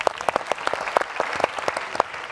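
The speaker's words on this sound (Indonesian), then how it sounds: "Tepuk tangan dong." Studio audience applause on an Indonesian family TV game show, sparse and fairly close, with distinct individual claps popping out in an uneven rhythm for about two seconds.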